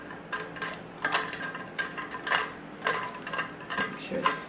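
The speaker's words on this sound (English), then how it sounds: "Stir this up." A spoon clinks and scrapes against a glass or cup while stirring a keto drink, a series of irregular metallic taps and rattles in quick bursts, close and fairly clear with no voices.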